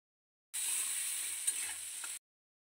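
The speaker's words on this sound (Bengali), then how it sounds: "পেঁয়াজ আর আলুটা একটু ভাজা ভাজা করে নিয়ে" Sliced onion and potato fry in a pan, giving a steady, close hiss of sizzling oil for under two seconds, with a faint stirring knock partway through and silence before and after.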